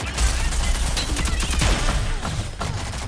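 Heavy gunfire in Rainbow Six Siege or Rogue Company runs without a break: loud, close volleys and rapid shots with booming low impacts, filling the whole moment.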